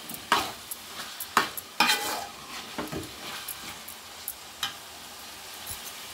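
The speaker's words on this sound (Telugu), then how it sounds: "ఇలాగా ఆయిల్లో వేగింది." Chicken frying in oil in a pan for a radish chicken curry, a soft sizzle broken by sharp scraping and stirring clatters at irregular intervals, fairly quiet and close.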